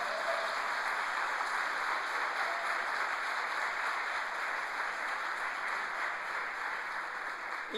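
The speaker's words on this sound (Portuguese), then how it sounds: "Você pode aplaudir ao Senhor aqui?" A church congregation applauds continuously, a dense, even wash of many hands clapping that stays loud throughout.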